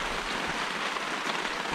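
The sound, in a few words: rain falling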